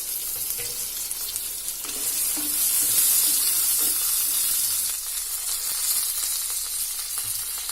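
Chopped onion and coconut sizzling and frying in a pan for pirandai chutney, a steady close crackle with stirring scrapes, louder in the middle and easing toward the end.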